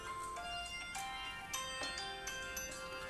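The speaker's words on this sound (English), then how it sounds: "I didn't know I had the phone on, just shut it off." A mobile phone ringing during a planning board meeting, a steady electronic ring pattern with repeated bright pulses filling the room, moderately loud and continuous with no talk over it.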